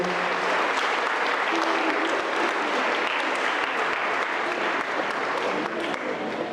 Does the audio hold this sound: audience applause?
yes